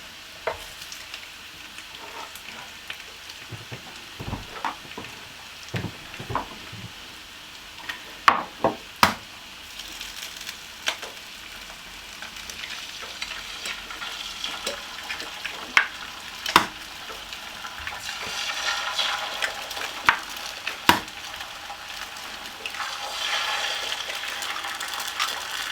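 Eggs fry in a Ninja air fryer alongside bacon, giving a soft, steady sizzle with scattered crackles and occasional sharper clicks and knocks, fairly quiet and close, with no voices.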